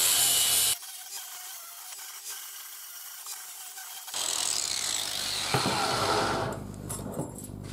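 A welded metal motorcycle windscreen bracket for a GPS mount is filed by hand, with a loud rasp at first, then quieter scraping and rubbing strokes that build again toward the end, close up.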